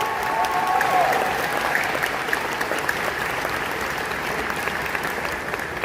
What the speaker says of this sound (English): let's give a round of applause to ESU Ceremonial Band and their conductor, Dr. Brian Hodge